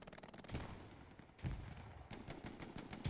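Gunfire from a large 18-versus-18 infantry battle in the video game Hell Let Loose, with rockets flying, comes as dense overlapping bursts of shots and explosions that keep up throughout, loud and fairly near.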